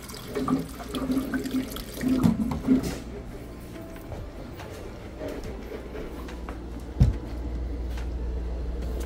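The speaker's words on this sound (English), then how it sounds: "The water." A household water tap runs steadily at low level, a soft continuous splash with some clatter and a sharp bump near the end.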